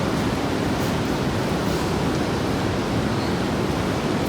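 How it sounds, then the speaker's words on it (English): Steady, dense hiss of heavy rain pouring outside, a continuous broadband roar with no breaks and no voices. "I don't know if you guys can hear me over this loud rain outside"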